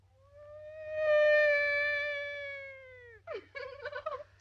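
A long, rising and falling wail like a police siren, mimicked by a parrot, then a short burst of squawky chatter.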